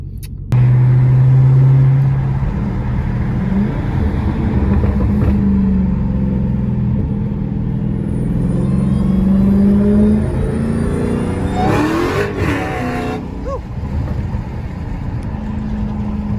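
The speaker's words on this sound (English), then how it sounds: "let you guys hear the cold air intake, supercharger whine" A Ford Mustang GT350 with a cold air intake and supercharger rumbles loudly from inside the car, with engine notes rising and falling through several revs and a sharper surge near the middle, and no talking.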